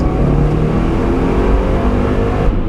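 A salvaged Subaru WRX engine drones loudly and steadily under acceleration, heard close from inside the car as a continuous rumbling roar with no talking.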